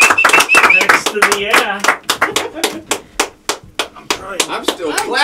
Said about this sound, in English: I'm still clapping.